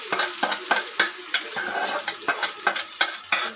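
Browned onion frying in a pan ahead of marinated chicken for kodi kura with ragi sangati, with a spoon scraping and stirring in a steady rhythm of sharp clicks over a light, continuous sizzle, close and clear with no voices.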